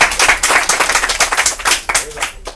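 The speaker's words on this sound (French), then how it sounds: "On applaudit Arafa." A game show audience claps for a contestant, dense, lively applause close and loud throughout, with a voice faintly mixed in.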